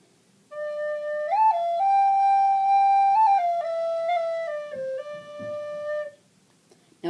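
Recorder playing a melody, a clear breathy sequence of held notes with small pitch steps and slides, close and alone, lasting about five seconds before stopping.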